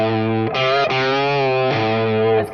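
Blues rock electric guitar lick played with distortion, sustained notes ending in small expressive string bends, loud and close, with no talking.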